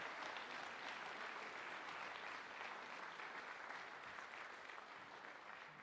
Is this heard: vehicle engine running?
no